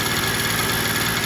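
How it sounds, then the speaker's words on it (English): A Piaggio Ciao moped engine, just refitted after being non-running, runs steadily and close by with a continuous buzzing drone that struggles to hold an idle. "I put the engine back in and I got it running, but it's not really idling."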